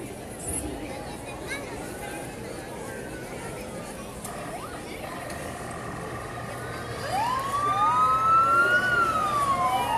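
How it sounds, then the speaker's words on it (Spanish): Emergency vehicle sirens wail at a carnival parade in Veracruz, rising and falling tones that grow louder and closer toward the end over a steady crowd and street rumble. "Ya se escuchan las sirenas"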